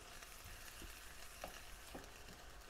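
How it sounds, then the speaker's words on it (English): Cream cheese being stirred into a hot pan to melt, a faint steady sizzle with a few soft spoon clicks and scrapes, quiet and close. "I'm just literally stirring the cream cheese in there to melt"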